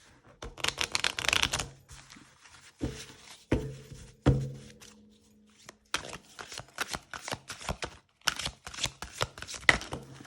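Oracle deck of flexible self-published cards being shuffled by hand, bursts of riffling and slapping card sounds in several rapid runs with short pauses between, close and fairly quiet.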